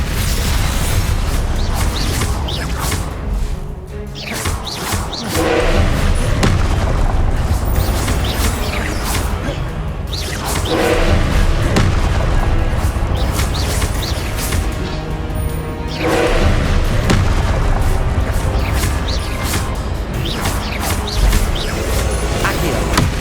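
Confringo and Expelliarmus spell blasts go off in Hogwarts Legacy, loud bursts recurring every few seconds over steady mechanical rumble and clatter.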